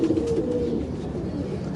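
Pigeons held in a loft for sale coo softly and repeatedly close by, a low murmuring call that fades slightly toward the end.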